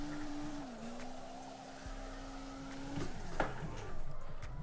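A car drifting on throttle in CarX Drift Racing Online, its engine holding a steady high note before it cuts out, then tire squeal and scrubbing noise rising in bursts.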